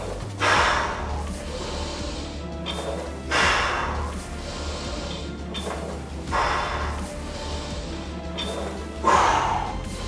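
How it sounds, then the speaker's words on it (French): Heavy, forceful exhalations from a person doing a leg workout with weights in a gym, four loud breathy bursts at regular intervals over a steady background hum. "J'expire sur le dernier tiers du mouvement."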